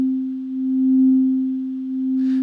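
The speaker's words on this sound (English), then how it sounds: "we essentially have a pure clean sine wave again." A pure, clean sine wave tone from a synthesizer holds as a steady, loud, unchanging hum for the whole stretch, with a faint brief rustle at the very end.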